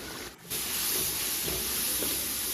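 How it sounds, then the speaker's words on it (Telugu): Masala with coriander powder and a splash of water frying in a pan for papaya mixed vegetable curry, a steady close hiss and sizzle throughout with a brief dip near the start. "నేనైతే బాగానే ఫ్రై చేస్తున్నాను."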